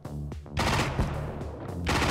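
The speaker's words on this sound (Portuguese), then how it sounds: "Ela dá vários tiros." Gunfire from a weapon in the mobile shooter Johnny Trigger rings out as several quick, loud bursts of shots in succession, close and punchy, with a short gap between volleys.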